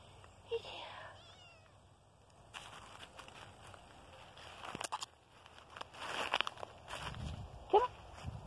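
A kitten outdoors in the woods gives a few faint, thin meows, with soft rustling footsteps and a person talking quietly nearby.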